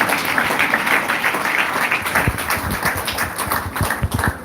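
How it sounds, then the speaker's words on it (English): Audience applause at a training session, a dense wash of clapping filling the room, steady and fairly loud, with scattered sharper individual claps standing out near the end. "Let us clap for those who are standing at the back."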